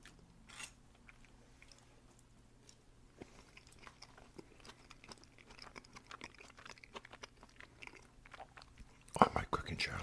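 Creamy spaghetti with sour cream is chewed right at the microphone in a quiet whisper-style setting, with soft, wet, crackly mouth sounds running steadily and a faint breathy voice underneath.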